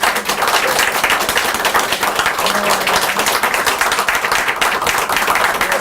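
A crowd claps loudly and continuously at the campaign office opening of Justice Party candidate Kim Ji-seon, a close, dense patter of many hands throughout.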